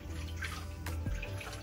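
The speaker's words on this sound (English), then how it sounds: "So I'll rinse the container and just pour the rest out." Water splashes and swirls as a container is rinsed out while making pepper soup with okra, a short close burst of sloshing and pouring in a kitchen, with no voices.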